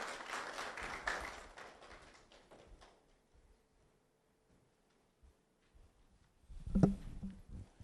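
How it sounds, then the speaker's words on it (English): An audience claps to welcome a keynote speaker at a dialogue event on clean air and Election 2024; the applause fades into near silence before a brief burst of noise returns. "Let's keep clapping till he gets here."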